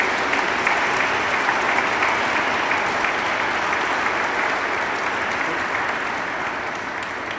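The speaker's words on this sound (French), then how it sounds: "Est-ce qu'on peut les applaudir maintenant ou après le chant?" A church congregation at a Lenten Sunday Mass applauds the children's choir with full, sustained clapping that stays steady and dense, tapering only slightly near the end.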